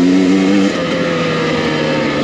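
Engine of a 2023 Husqvarna TE300i two-stroke dirt bike, loud and close, a steady buzzing drone that dips in pitch partway through as the throttle eases.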